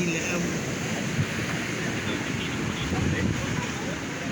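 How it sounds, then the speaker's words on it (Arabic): Red Sea water washes against the shore at Marsa Alam, a constant surf rumble mixed with wind buffeting the microphone, loud and continuous. "اهو المية بتاعتنا، جمال ميتنا."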